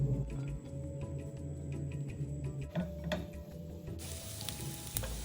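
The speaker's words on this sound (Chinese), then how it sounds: "锅内倒入3大匙食用油，油热后倒入蒜末爆香" Minced garlic fries in three tablespoons of hot cooking oil, giving a soft, even sizzle that continues without pause and is joined by a few faint ticks.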